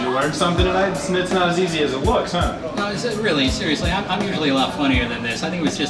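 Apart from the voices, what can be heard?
No everyday noises stand out.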